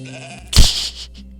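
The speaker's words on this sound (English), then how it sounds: "Good old stuttery sheep." A single stuttering sheep bleat from the video game Moirai, a short loud wavering cry over a quiet background hum, then silence.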